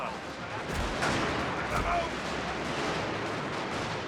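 Artillery firing shrapnel shot in a Total War game battle set in the Anglo-Zulu War at Isandlwana, heard as dense, continuous booming gunfire and rumbling volleys, with a couple of stronger blasts near the start, under faint voices.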